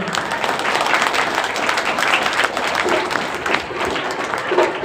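An audience claps steadily and densely at an outdoor folk dance performance of peacock and oyilattam dancing, a continuous crowd of hands with faint voices mixed in.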